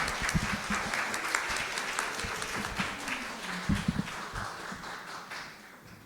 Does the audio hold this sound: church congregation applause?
yes